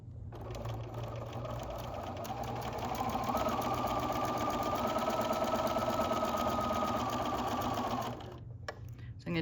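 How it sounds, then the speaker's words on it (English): A sewing machine chain stitches fabric strips together in one continuous close whirring run with a rapid needle rhythm, slowing briefly before stopping near the end. "So this is then being chain stitched"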